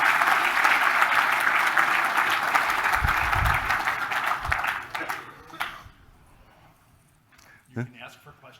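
Applause from an audience after a talk on automation fills the room for about five seconds, steady and fairly loud, then thins out and stops, leaving near-quiet with a voice speaking briefly.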